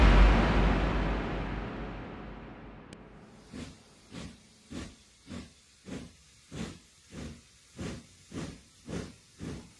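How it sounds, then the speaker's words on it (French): Loud steam hiss fades, then a steam locomotive's steady, regular chuffing begins, about one rhythmic puff every half second, growing slightly stronger. "Le bruit était assourdissant et étrangement régulier, marqué principalement par le frottement des roues sur les rails"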